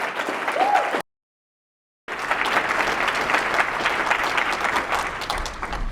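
Audience at a political rally for the DISCLOSE Act breaks into loud, dense applause that carries on steadily after a brief cut of silence.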